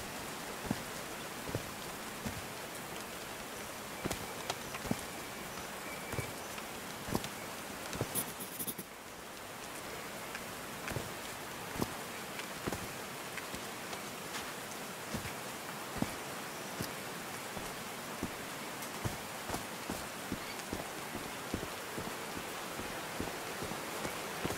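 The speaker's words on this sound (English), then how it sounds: "These drops of rain are so refreshing." Steady rain falling in the video game Call of the Sea, a dense hiss of drops with scattered sharper taps and patters on surfaces, continuous and moderately soft, no voices.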